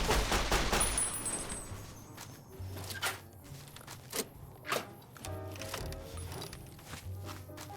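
Rapid gunfire in Fallout: New Vegas as shots hit a rock, a burst of dense shooting at the start followed by scattered single sharp reports over a low game drone.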